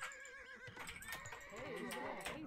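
Horses whinny in the video game Age of Empires, two or three high wavering neighs layered over faint clip-clop and game effects, fairly quiet throughout.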